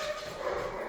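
A dog whimpering and yipping indoors at a homecoming, a thin steady whine close by with no voices over it.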